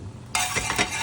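A Spanish omelette hits a hot pan with a sudden loud sizzle that keeps hissing and crackling close up, after a quiet start.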